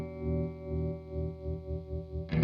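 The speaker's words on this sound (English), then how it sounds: "What you can hear is the fact that the bottom end of the sound is being pulsed, but the top side of it remains completely intact." Red Witch Pentavocal Tremolo pedal on electric guitar, a sustained note whose low end pulses in a steady rhythmic throb while the upper tone stays constant, ending with a new strum.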